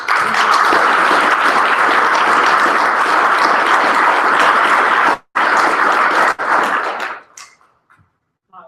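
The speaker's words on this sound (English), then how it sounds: "Let's clap one more time." Audience clapping at a conference lunch after a guest coach's talk, loud and dense for about seven seconds with two brief cutouts, then dying away into near silence.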